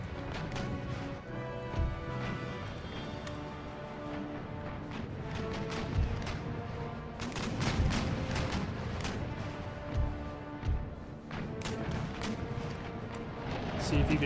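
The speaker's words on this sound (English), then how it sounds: "Try to fly a round shot just to get some shots into this first rate" Repeated heavy cannon thuds of round shot firing in an Empire: Total War naval battle, irregular booms scattered over a busy, noisy battle soundscape with a voice talking over it.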